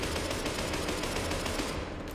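Rapid pistol fire in the video game SCP: Secret Laboratory, a dense string of quick loud shots with no pauses between them.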